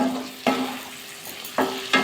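Flat beans fry in oil in a pan with a soft, steady sizzle, broken by a few louder scraping strokes as a spatula stirs them.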